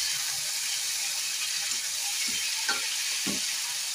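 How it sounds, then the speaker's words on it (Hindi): Cowpea pods frying in a pan hiss continuously while a spatula stirs them in several short scraping strokes toward the end. "डालेंगे रमास की फली, इनको भी अच्छे से लगातार भूनेंगे।"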